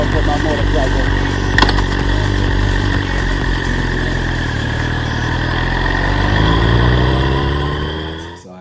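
Motorcycle ride with a helmet or handlebar-mounted camera capturing a steady engine drone and wind rush, the engine note dropping as the bike slows near the end.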